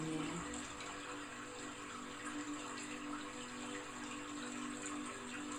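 Steady rushing water of a waterfall, a continuous broadband wash with no breaks, moderately loud and even throughout, with no voices.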